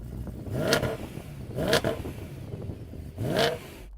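An older BMW M3 engine is blipped three times, each rev rising briefly and then dropping back to a rumbling idle, heard from a moderate distance.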